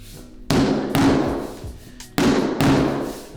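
Floor tiles are tapped into place during installation with four heavy, close thuds in two quick pairs, each knock ringing out briefly before the next.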